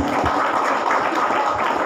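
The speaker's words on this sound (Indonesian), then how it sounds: "Tepuk tangan dong buat yang baru closing" Applause in a room for a colleague who just closed an insurance deal, a dense, steady clatter of many hands clapping together for a couple of seconds.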